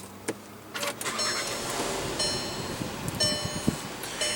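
A 2015 Volkswagen Jetta with a 1.8 liter turbocharged four-cylinder starting up with push-button ignition, then settling into a quiet, steady idle with faint clicks and ticks around it.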